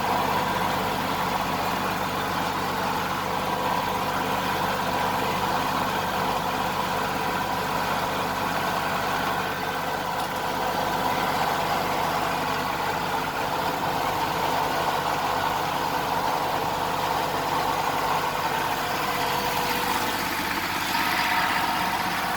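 Tractor pulling deep-set plows through a field, a steady mid-range engine drone that holds at an even level for the whole stretch, strained but unchanging, with no voices.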